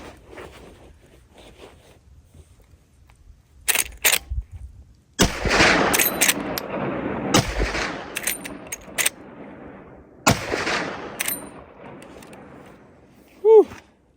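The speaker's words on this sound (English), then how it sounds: "Another 3 smooth rounds coming right out of the Henry 4570 brush gun machine." Three sharp rifle shots from a Henry 45-70 lever-action brush gun firing 405-grain rounds outdoors, spaced apart with brief mechanical handling sounds between them and a short voice at the end.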